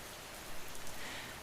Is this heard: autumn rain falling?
yes